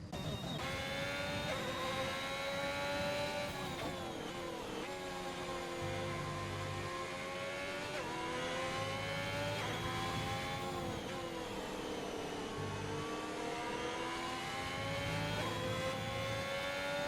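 Race cars at the Red Bull Ring produce a continuous, layered engine drone whose pitch rises and falls as the cars accelerate and ease off, heard from a moderate distance with no talk over it.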